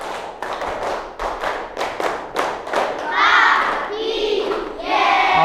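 A school class chants a rhythmic clapping cheer together, steady hand claps repeating in a quick beat before the children's voices rise in a loud group shout near the end.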